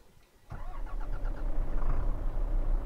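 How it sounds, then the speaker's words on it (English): A heavy truck engine in a trucking simulator game, likely a 2019 Mack Anthem or Kenworth T880, turns over and settles into a steady, loud rumbling idle that stays constant after a quiet opening moment. "it's a nice sounding truck"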